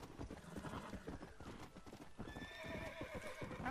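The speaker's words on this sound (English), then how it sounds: "Run like the wind, Mr. Horse!" In the video game Red Dead Redemption, a horse gallops with rapid rhythmic hoofbeats and then lets out a clear whinny near the end, close and prominent throughout.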